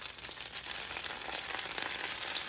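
Curd chutney poured into a hot oil tempering with turmeric for perugu vada, giving a steady, close sizzle and crackle that fills the whole stretch with no voices.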